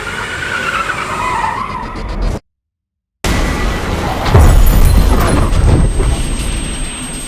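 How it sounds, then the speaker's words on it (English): Loud tire screech of a Honda Civic skidding out of control at high speed, a harsh sustained squeal broken by a short gap, then a rougher, louder skid with roaring road noise and no voices. "Then she lost control of her car."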